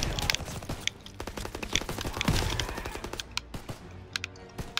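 Rapid gunfire in Call of Duty WWII, with a shotgun among the weapons, crackles in dense overlapping bursts of shots at close and middle range through the whole stretch, with no talk.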